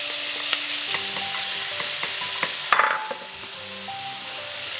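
Onions and wild boar meat sizzle loudly in a pan with scattered clinks from a utensil, and the hiss eases off in the last couple of seconds, with no speech.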